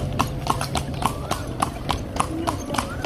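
Horse pulling a cart along a road, hooves clip-clopping in a quick, steady rhythm close by, with a faint voice in the background.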